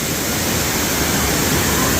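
A waterfall in the Madagascar area of the San Diego Zoo pours with a loud, steady, broadband rush, close and unbroken.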